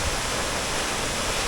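Steinsdals Waterfall rushes in a steady, loud, broadband roar of falling water, close by and continuous, with no voices over it.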